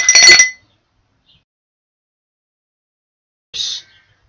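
Ice cubes drop into a drinking glass: a bright, close clatter of clinks at the start, then silence, then a second short, ringing clink a few seconds later.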